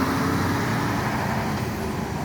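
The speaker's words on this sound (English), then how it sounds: "Double-decker buses." Steady street traffic with double-decker buses passing along a seaside promenade in Nice, a continuous near rumble of engines and tyres with no talk over it.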